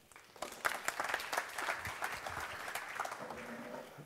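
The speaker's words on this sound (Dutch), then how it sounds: "En nogmaals, een warm applaus." Audience applause at a live public discussion event, a steady wash of many hands clapping that swells after a quiet start and holds evenly to the end, with no talking over it.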